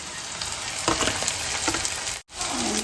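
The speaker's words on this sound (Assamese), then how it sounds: "এতিয়া তেলখিনি ধুনীয়াকৈ পকি গৈছে এতিয়া পিঁয়াজ দিম ইয়াতে" Onions frying in hot oil in a pan on the stove, a steady broadband sizzle with a brief stirring clatter, a short cut-out near the end, then the sizzle resumes close and loud with no talk.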